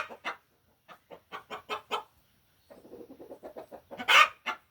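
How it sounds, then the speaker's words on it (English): Chicken clucking in short repeated bursts close by near a water bucket on a small farm with sheep, followed by a sharper louder squawk near the end. "The chicken went over there to get a drink of water out of the bucket"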